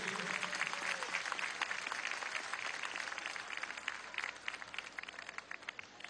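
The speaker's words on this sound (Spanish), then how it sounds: "Un aplauso desde aquí." A large crowd applauds at a political rally with Nicolás Maduro in the Poliedro in Caracas, steady sustained clapping heard from a distance that slowly thins toward the end.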